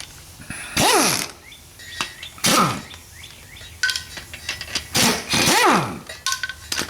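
A 13 mm ratchet wrench loosens rocker arm assembly nuts while an engine is being torn down, with loud bursts of rapid clicking and occasional metallic clinks and taps nearby.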